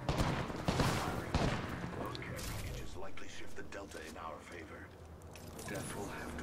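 Gunfire crackles in bursts during a firefight in the video game Apex Legends, loudest early on and mixed with game voice lines and clatter of mechanisms.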